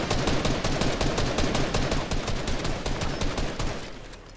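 Rapid, sustained gunfire in the Fortnite video game: dense, loud bursts of shots that run almost without a break, easing off slightly at the end.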